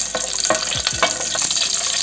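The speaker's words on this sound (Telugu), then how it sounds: "ఇప్పుడు మనం ఇందులో పచ్చిమిర్చి వేసుకుందాము" Green chilies hitting hot oil with fennel seeds and cumin, frying in a pan for a Madras-style king fish curry. There is a steady loud sizzle with crackling bursts and a few stirring scrapes, and no talk.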